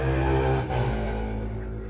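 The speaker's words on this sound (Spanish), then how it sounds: "el ruido de la moto, disculpen" Motorcycle engine passing nearby, a loud steady drone with strong low harmonics that peaks early, then eases slightly as it moves off.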